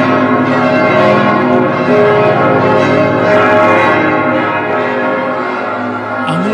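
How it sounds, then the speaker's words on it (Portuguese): Church bells ring continuously and loudly, announcing a miracle in a town, their dense tolling tones filling the whole stretch without speech. "Os sinos da igreja de Munhano foram tocados para anunciar o"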